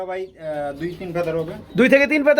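Soft, throaty coos of Shirazi pigeons repeat close by, rising and falling in a short rhythmic series, loud and clear with no talking.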